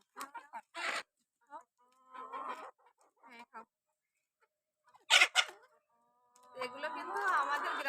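Village chickens cluck close by in short bursts, with a louder rooster-like call midway and a voice speaking among them.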